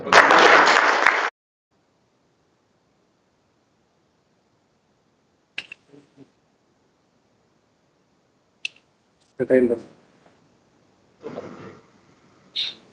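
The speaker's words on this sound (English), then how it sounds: "Okay, big round of applause." Audience applause at an inauguration ceremony for new zones, a broad burst of clapping at the start that stops after about a second, followed by long quiet with a few scattered faint sounds and brief voices.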